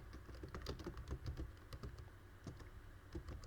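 Python code being typed on a computer keyboard: rapid, irregular key clicks and taps, close and fairly quiet, with no speech over them.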